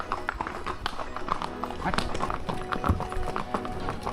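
Horse hooves clop in a quick, steady rhythm close by at Matheran, with a voice speaking briefly over the hoofbeats.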